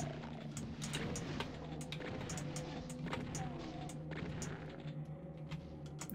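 Shotgun blasts boom repeatedly in Ultimate Doom, a rapid string of sharp, loud reports over a low rumbling game backdrop, with no one talking.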